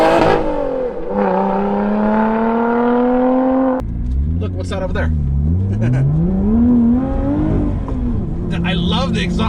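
The exhaust of a new Lotus sports car drones and rises in pitch while driving, revving up through gears with a shift midway and a strong, close engine note, as occupants talk over it.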